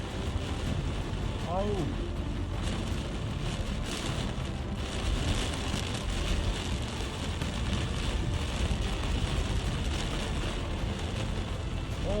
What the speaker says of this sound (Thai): ที่นี่พายุเข้า